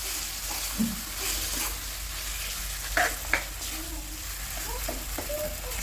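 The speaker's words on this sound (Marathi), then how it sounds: "भाजी टाकायची. चांगलं मिक्स करून घेऊया." Chopped vegetables added to a pan and mixed, a quiet steady sizzle with a few distinct spoon scrapes and clinks partway through.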